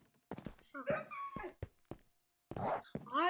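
A dog whimpers in a survival video game, with whiny, rising cries close by, broken by short thuds, while a person talks over most of it.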